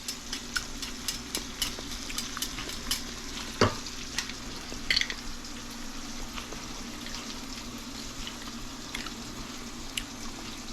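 Garlic sizzles in olive oil in an iron skillet alongside salmon, a steady close frying hiss with scattered pops and faint scraping stirs.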